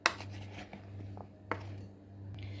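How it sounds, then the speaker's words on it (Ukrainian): Chopped vegetables, with potatoes and hunting sausages nearby, are stirred together in a bowl: a few faint clinks and scrapes of a utensil against the dish, quiet and close, over a low steady hum. "Я ще раз перемішую всі овочі між собою."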